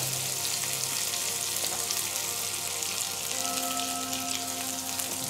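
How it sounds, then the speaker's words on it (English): Butter and chopped green onions sizzle in a heated pan, a loud, even crackling hiss that runs without a break. "I've got the pan here, it's heated up, so I'm just gonna put some butter on there and some green onions"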